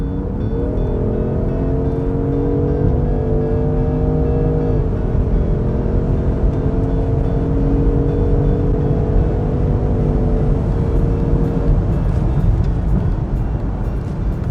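A 2023 Range Rover Sport P510e plug-in hybrid SUV with 510 hp accelerates hard, its engine note climbing in steady upward sweeps through several shifts. Heard from inside the cabin, a constant road and wind roar sits beneath the engine.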